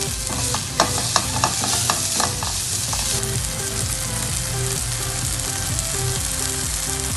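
Onions and tomatoes fry with turmeric, red chili powder and salt in a pan, giving a steady, close sizzle with a few sharper crackles and stirring clicks near the start and no talking.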